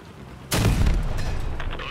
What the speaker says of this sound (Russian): Фига, у него какая мощная пушка